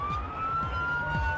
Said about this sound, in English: Siren on and lights flashing, you really can't miss them.